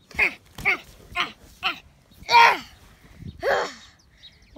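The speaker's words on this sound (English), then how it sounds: "Oh my god, it's a pig" A pig calls out six times in short, separate bursts, fairly close, with quiet pauses between each call.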